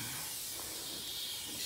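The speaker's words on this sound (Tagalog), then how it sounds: "i-spray natin palabas naman tayo" A garden sprayer mists beans in a home garden, giving a steady close hiss of spray that runs the whole time at moderate level.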